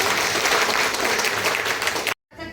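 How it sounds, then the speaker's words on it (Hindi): Audience at an International Women's Day event in Mau block bursting into loud sustained applause, dense clapping that cuts off abruptly near the end before faint noise returns. "और मैं चाहती हूँ जोरदार तालियां हमारे वीडियो साहब के लिए"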